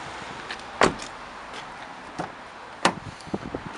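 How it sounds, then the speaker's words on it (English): The driver's door latch of a Nissan Qashqai N-Tec clicks and the door swings open, followed by a second sharp thunk and a few lighter knocks and rattles. "Open up the driver's door,"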